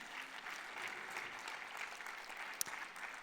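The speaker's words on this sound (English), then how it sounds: "Now give yourselves a round of applause" An audience applauds at the closing ceremony of the ADHN General Assembly at the Africa HealthTech Summit 2025, with steady, fairly soft clapping from a sizable crowd that continues throughout.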